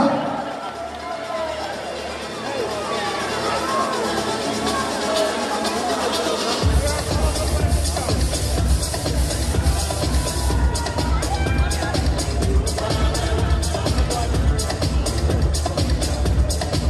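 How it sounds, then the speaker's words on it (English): Guests at a wedding reception clap and cheer loudly and steadily. The crowd noise is dense and continuous, swells after the first few seconds and stays full to the end, with chatter mixed in. "give them a huge round of applause"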